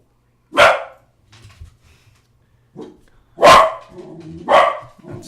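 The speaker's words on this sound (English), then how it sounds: "That's my dog." A dog barks nearby, three sharp loud barks spaced a second or two apart, with soft whimpering and small noises between them in an otherwise quiet room.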